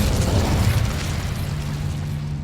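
Incendio fire spell cast in Hogwarts Legacy, a loud, deep whooshing burst of flame that rumbles and then tapers into a lingering crackling roar.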